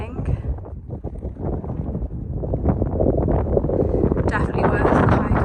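Wind gusting over a lookout hill near Ningaloo Reef, rumbling across the microphone and building toward the end, while people talk over it.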